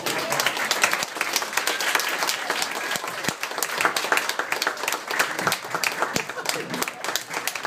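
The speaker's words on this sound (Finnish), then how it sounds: "Aplodit" Dense, lively clapping from an open-mic stand-up comedy crowd welcoming a comedian, a steady close wash of many hands with a few sharper individual claps standing out.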